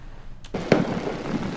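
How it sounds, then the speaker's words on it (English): Fireworks go off with a couple of sharp, fairly close bursts, each followed by a rolling, crackling tail. "Oh, them fireworks."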